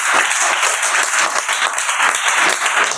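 A classroom of children claps for a classmate, steady dense applause from many hands filling the room, sustained and fairly loud throughout.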